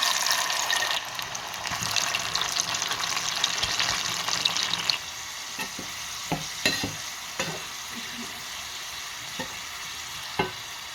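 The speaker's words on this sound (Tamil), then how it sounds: "இப்போ எண்ணெயை விட்டு பொரிப்பேன்." Sweet potato pieces sizzling and crackling in hot oil as they fry, a dense hiss that later thins out to scattered pops and stirring clinks.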